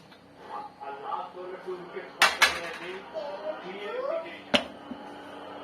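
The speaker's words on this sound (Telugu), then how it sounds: "ఒకసారి కలిపేసుకుంటున్నా మంచిగా మంచిగా అయితే కలిపేసుకుంటున్నా" A spoon stirs food in a cooking pot with a few sharp metallic clanks and scrapes against the pot, heard close up while a person talks over them.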